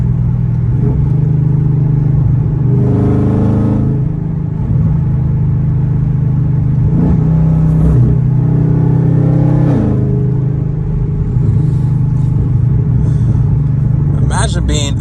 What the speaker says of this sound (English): Let y'all hear the car for a little minute.